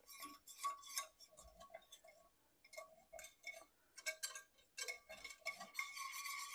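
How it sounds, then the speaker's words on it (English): Eggs being whisked in a bowl for Chinese restaurant-style egg foo young, quick irregular clinking and stirring strokes against the bowl, close and moderately loud, with brief pauses and no talk. "We'll whisk that up. We'll blend those together."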